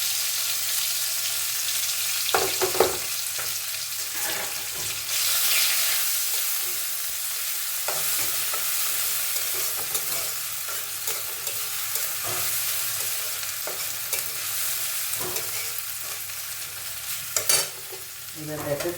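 Chopped garlic frying in a little oil with black cumin seeds, a bright continuous sizzle with intermittent stirring clicks and spatters, close and fairly loud, no talking.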